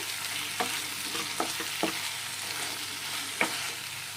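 Eggplant curry with a half spoon of coriander powder being stirred in a pan, a soft low sizzle under a few scattered spatula taps and scrapes, quiet and close.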